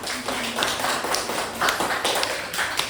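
An audience claps for a presenting group at a university teaching session, a dense, steady round of applause lasting throughout, fairly close and loud.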